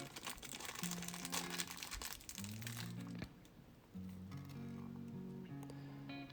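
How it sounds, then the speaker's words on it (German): A small plastic bag holding three screws for a Zhiyun Weebill S gimbal is handled close up, giving continuous crinkling and rustling with a brief pause partway through. "Hier haben wir eine kleine Tüte mit 3 Schrauben."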